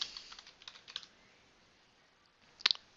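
Typing on a computer keyboard while entering a command at a terminal: faint, close clicks in a short run, a long quiet gap, then a final sharper cluster of keystrokes, with no talking.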